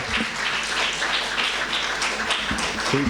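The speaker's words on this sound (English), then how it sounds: "So let's give a round of applause." Audience applause fills a gathering honouring Franklin and Cecilie Fortune, a steady dense wash of many hands clapping at moderate volume with no break.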